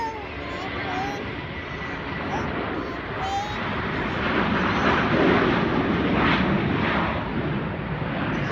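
A fixed-wing airplane takes off at an airport, heard as a broad roaring engine rumble that swells louder in the second half and holds steady, with a few faint higher whistling tones on top.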